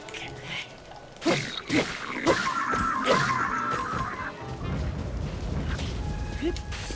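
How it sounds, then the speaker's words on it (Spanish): Explosions in Zelda: Tears of the Kingdom gameplay, a couple of sharp booms followed by a sustained roaring blast with crackling debris, close and loud, with game music and effects mixed in. "Vale, sigue funcionando lo de las explosiones, sigue siendo espectacular."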